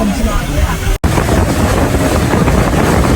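Ferry crossing from Bali to Nusa Penida, with a loud, steady roar of engine, rushing water and wind buffeting the microphone throughout, briefly cutting out for an instant near the one-second mark.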